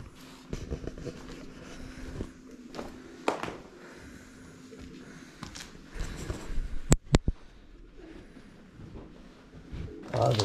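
Pigeons cooing inside an abandoned school, soft intermittent coos mixed with footsteps, clatter and sharp knocks, with people talking nearby.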